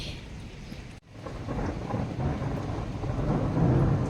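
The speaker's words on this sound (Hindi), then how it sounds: "पता नहीं कहाँ फट रहे हैं बादल। इतने बड़े धमाका, इतना तो बम का धमाका भी नहीं होता" Loud thunder rolls through a rainstorm after a brief cut, swelling into a deep, sustained rumble over the steady hiss of heavy rain, with no voices.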